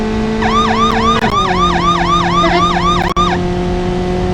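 A loud electronic vehicle siren in BeamNG.drive wails in a fast repeating up-and-down pattern over a steady engine drone, cutting out briefly near the end.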